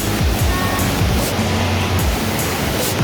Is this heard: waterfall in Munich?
yes